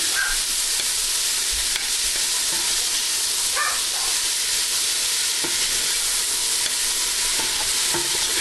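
Garlic sizzles and fries in a gumbo pot, a loud, constant hiss with occasional scraping clicks as it is stirred, close and without talk.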